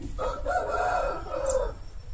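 An Aseel rooster crows once, a loud, close, drawn-out call lasting over a second, over quiet background noise.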